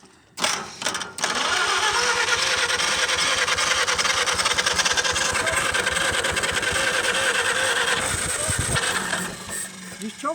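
An old tractor engine struggling with a carburetor problem runs roughly close by, a loud, uneven idle with a pulsing beat after a short start, while people talk briefly over it.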